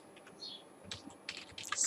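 Typing on a computer keyboard while entering an SQL column name, a quiet run of light, irregular key clicks that thicken into a faster burst toward the end, alone without talk.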